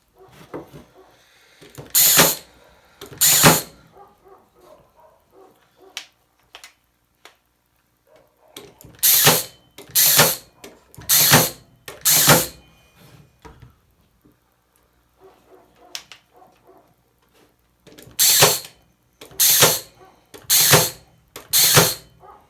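A Parkside cordless nail gun drives 32 mm nails, firing in sharp, loud, evenly spaced bursts in three groups of two to four shots, with quiet mechanical clicks in between.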